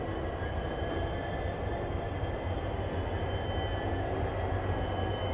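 The Jammu Jodhpur Express departing from Bikaner, a loud, steady rumble of wheels and carriages with constant clatter and no voices.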